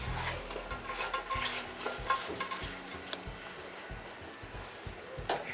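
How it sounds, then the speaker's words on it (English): Goan prawn curry with raw mango and okra bubbling in a pot, a faint, quiet simmer with soft popping and occasional light clinks of cookware. "Make sure your curry is still boiling"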